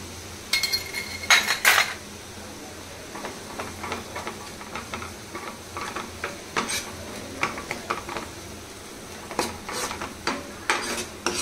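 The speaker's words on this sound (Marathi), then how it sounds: "आता कांदो जरा गरम झाला, त्याच्यानंतर आता लसूण पेस्ट टाकता, आलं लसूण पेस्ट" Ginger garlic paste stirred into hot onions in a frying pan for egg masala fry, a soft sizzle under repeated scraping and clinking of a utensil against the pan, close and fairly loud.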